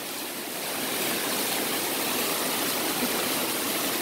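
Spring water flows between stones in rural Guatemala, a steady close rushing and splashing, loud and unbroken with no voices.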